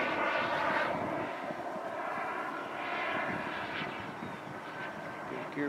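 A Ripmax Xcaliber model airplane engine held at full throttle, a steady, loud, high-pitched buzzing drone that barely wavers, close by and sounding alone.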